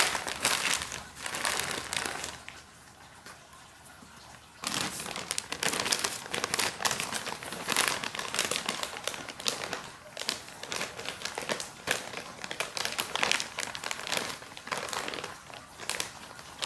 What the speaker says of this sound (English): They have these bags perforated, and you're supposed to be able to stick your finger in there and pull it open,